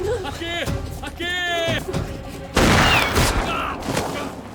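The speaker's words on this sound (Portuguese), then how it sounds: "Mas já dá errado porque o Chris toma um tiro pra parar de ser besta." Gunfire rings out in a horror film set in a forest with cannibals, where a man is shot; a sharp burst of shots cuts in midway, loud against voices and music.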